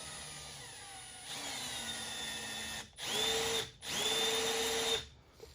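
A ring filer grinds Cummins piston rings for a 1400 hp engine build in bursts of high, whining grinding, stopping briefly between passes, close and alone.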